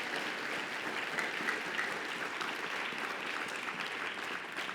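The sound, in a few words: congregation applauding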